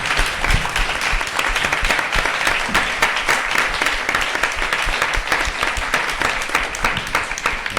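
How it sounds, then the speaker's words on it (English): A film festival audience gives author André Aciman a loud round of applause, a sustained, dense clapping of many hands that holds steady throughout. "Everyone giving a round of applause for the author."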